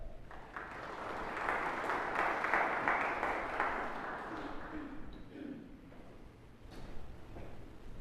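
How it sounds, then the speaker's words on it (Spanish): Applause for a speaker at an electoral event, fairly faint, building then fading over several seconds with some background murmur. "les pediría unas palmas para el doctor Facio"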